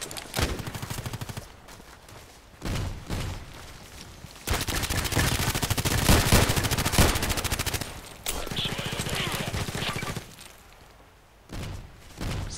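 Bursts of rapid automatic gunfire and single shots from the shooter game Contract Wars come in several loud stretches separated by quieter gaps, with dense rattling volleys.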